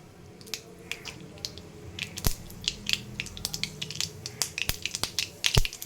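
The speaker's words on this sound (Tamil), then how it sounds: "இதில் கருவேப்பிலை போடுற மாதிரி" Curry leaves dropped into hot oil with spluttered mustard seeds for garlic thuvaiyal, giving a rapid run of sharp pops and crackles over a low sizzle, growing busier toward the end, no voices.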